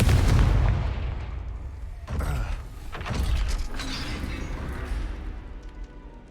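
Confringo explosion spell in Hogwarts Legacy: a heavy boom up front, then a couple of further rumbling blasts and crackling debris that fade under a game soundscape.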